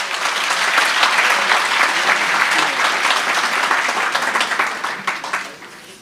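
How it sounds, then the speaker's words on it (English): Sustained applause from an audience at a Free State primary school summit, dense steady clapping that holds strong for about five seconds before thinning out at the end. "A round of applause for that."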